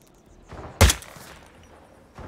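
A single sniper rifle shot at a TV aerial in a Hitman video game, one loud, abrupt report with a short tail over quiet game ambience and a few soft thuds.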